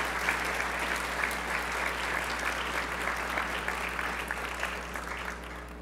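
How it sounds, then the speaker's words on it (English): Warm applause at a student scholarship banquet, many people clapping steadily for about six seconds at moderate volume, with a low constant hum beneath the crowd. "how about a round of applause for your support team?"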